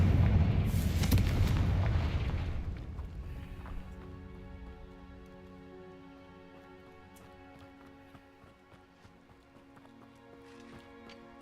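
Confringo blasting spell explosion in Hogwarts Legacy: a loud, booming burst that roars for about three seconds, then fades into a quieter, lingering rumble of game ambience.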